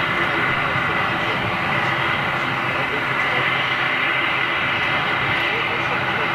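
A small Aer Lingus plane operated by Stobart Air takes off at Manchester, a steady engine roar with a high whine running throughout, with someone talking over it.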